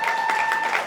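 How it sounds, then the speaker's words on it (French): Guests at a Congolese wedding reception applaud the couple, a short spell of dense clapping under a sustained electronic tone, probably music or feedback from the sound system. "applaudissez pour le couple Ebala"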